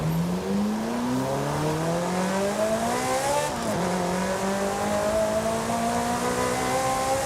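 A car in the Forza Horizon 5 racing game, driven with a steering wheel, accelerates hard at top speed: a loud engine note climbs steadily, drops briefly at one gear shift, then climbs again, with no talking.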